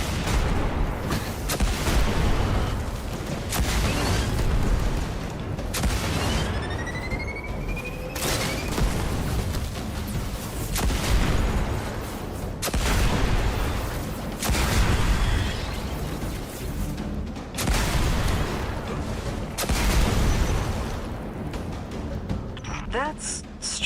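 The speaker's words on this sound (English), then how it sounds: "Scorch cannon." A Scorch Cannon fires in the video game Destiny, a series of heavy booming blasts roughly every few seconds, each followed by a rolling rumble, with voices speaking underneath.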